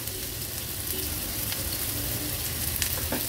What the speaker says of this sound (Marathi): आता हा बारीक चिरलेला एक मीडियम साईजचा कांदा आपण तेलावर ऍड करूया।